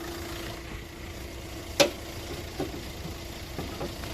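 A Hyundai Elite i20 with a 1.4-litre diesel engine idles quietly in the open engine bay, a faint steady low hum broken by one sharp click and a few small knocks.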